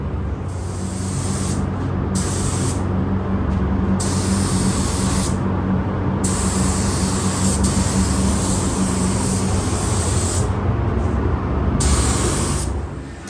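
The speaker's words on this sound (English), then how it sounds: "Shooting a nice coat of sealer on here." A spray gun lays a coat of automotive sealer onto Mustang bumpers in an auto body shop, giving a loud, steady hiss that runs almost unbroken for about thirteen seconds, with brief gaps where the trigger is released.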